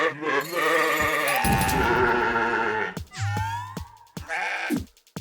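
Goat enemies in the video game CrossCode give loud, wavering bleats that overlap and repeat, broken up by sharp game hits and chirpy effect sounds.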